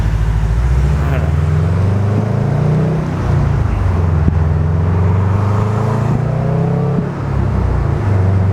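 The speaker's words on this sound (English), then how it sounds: "I'm driving on intelligent mode because I don't want to punch it and fuck something up" A 2011 Subaru STI drives along the road, its engine giving a loud, steady low drone with shifting pitch and some cabin rumble from inside the car.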